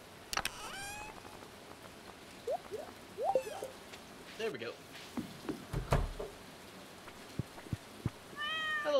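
A cat meows in Stardew Valley, with rain pattering steadily in the game; several short, clear meows come at intervals, mixed with soft game effects, while a player talks intermittently over them.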